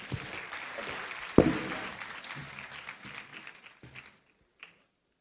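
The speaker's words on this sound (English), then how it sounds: "Please, a round of applause for them." Applause rises from the audience at a Supreme Court 150th anniversary celebration for a Justice Club of Prempeh College performance, a dense steady clapping with one sharp loud clap that thins out and fades to near silence.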